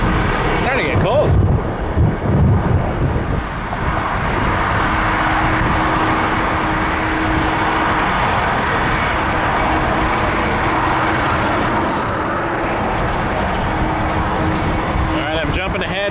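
An Aer Lingus Airbus A330 jet bound for Dublin rumbles at Toronto Pearson on a cold evening, a steady engine drone lasting throughout, with a person talking briefly near the start.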